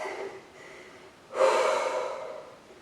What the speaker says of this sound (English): Exhale. Catching our breath.